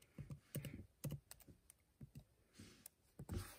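Typing on a MacBook Air keyboard, a quick irregular run of soft close key taps and clicks, fairly quiet, with no talking.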